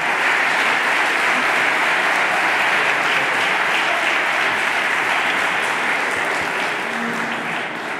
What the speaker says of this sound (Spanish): un fortísimo aplauso para don Gabriel Calzada